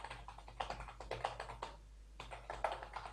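Keys clatter on a computer keyboard in quick, faint bursts of typing, a short pause splitting two runs of tapping.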